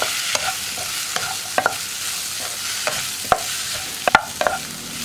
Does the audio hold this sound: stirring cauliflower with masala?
yes